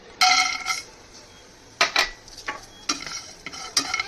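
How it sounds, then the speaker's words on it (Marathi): Whole spices dry-roasting in a kadhai over a low flame, stirred in short bursts of metallic scraping and clinking with quiet pauses between strokes, close and moderately loud. "कढईमध्ये आपला जो हा खडा मसाला आहे आपल्याला हा भाजून घ्यायचा आहे"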